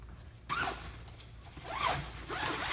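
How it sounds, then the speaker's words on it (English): A soft top storage sleeve being zipped closed, with a few quick zipper pulls and rasping runs at close range, mostly alone against faint background noise. "zip it up"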